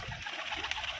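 Soft pigeon cooing in a short burst, faint and steady against a hiss of background noise.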